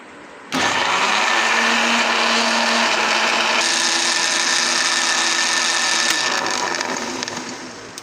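An electric blender roars continuously, grinding ginger and garlic with a little water into paste, starting abruptly, shifting pitch partway through as the load breaks down, and running loud and steady throughout.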